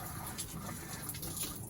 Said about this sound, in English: Pour a little bit down the shower.